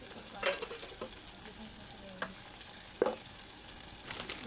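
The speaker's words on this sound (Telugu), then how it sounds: "ములక్కాడ అయితే ఫ్రై అవుతుంది." Drumsticks (moringa pods) fry in a pan with garam masala and chili powder, giving a faint steady sizzle broken by a few soft clinks of stirring.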